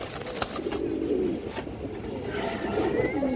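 A pair of pigeons coos softly and repeatedly nearby, low rolling calls over light background noise.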